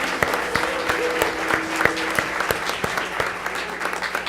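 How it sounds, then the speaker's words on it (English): Audience at a school board meeting giving a round of applause to honored interns, steady clapping from a room of people with sharp individual claps standing out near the microphone. "give them a big round of applause."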